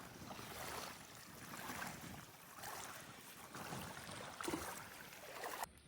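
Floodwater of a swollen village river rushing past outdoors, a steady broadband roar with wind buffeting the microphone and slow surges in loudness, no talk over it.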